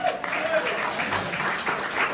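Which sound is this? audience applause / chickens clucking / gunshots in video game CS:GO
audience applause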